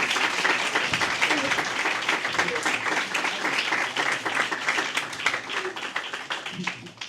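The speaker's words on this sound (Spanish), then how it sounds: "un aplauso por favor para ellos" Applause from an audience at a talk at an Ateneo, steady dense clapping that fills the whole stretch at moderate level, with a few faint voices mixed in.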